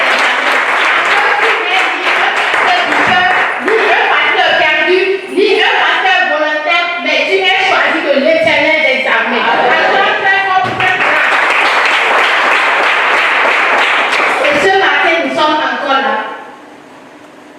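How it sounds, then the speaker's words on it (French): Church congregation at a religious gathering applauding and cheering loudly for God, a dense, sustained wall of clapping and voices that cuts off abruptly near the end. "Acclame très fort pour l'Éternel."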